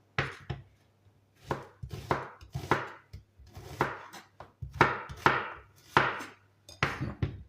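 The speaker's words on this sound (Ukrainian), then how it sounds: "наріжу цибульку такими напівкружицями" Onion being sliced into half-rings with a kitchen knife, heard as a steady series of crisp, close chopping taps on a board, about a dozen strokes in irregular bursts with short pauses.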